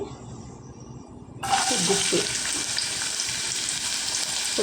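Onions dropped into hot oil for hotel-style upma, a quiet pan that suddenly bursts into a loud, continuous sizzle which holds steady to the end, with no talking.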